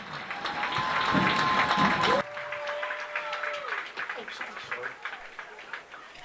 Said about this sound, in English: Let's have a nice round of applause for all the senior members of the Highlands Golden Rams 2024 Marching Band